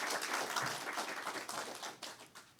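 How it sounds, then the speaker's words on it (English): Audience at a live-streamed community coalition event gives a round of applause, soft and somewhat distant clapping that continues for a couple of seconds and fades. "Let's give her another round of applause."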